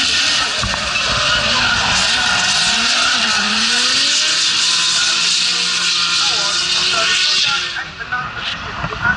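Drift car tires skid and squeal in one long sustained screech at a Tunerfest 2024 drifting event, loud and close, with engine noise underneath before the squeal cuts off near the end.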